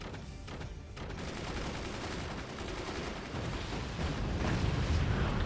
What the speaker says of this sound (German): die Kanone wird da, hoffe ich mal, ordentlich durchschallern bei ihm